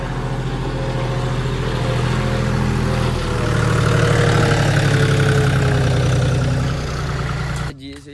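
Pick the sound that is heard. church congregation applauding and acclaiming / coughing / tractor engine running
tractor engine running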